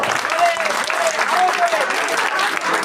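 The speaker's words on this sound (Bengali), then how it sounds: "সকলকে আমি অনুরোধ জানাচ্ছি করতালি দিয়ে একবার রাজকুমারের জন্য" A crowd at a 5 km marathon prize ceremony claps for race winner Rajkumar Das, a loud, steady wash of applause with a faint voice briefly audible underneath.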